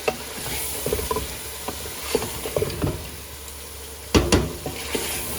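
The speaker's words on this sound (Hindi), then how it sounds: "अब चिकन बहुत अच्छे तरीके से मैंने भून लिया है।" Chicken nihari sautés in a pan with a moderate sizzle and soft scraping stirs, punctuated by a couple of louder clinks near the end.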